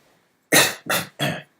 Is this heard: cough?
yes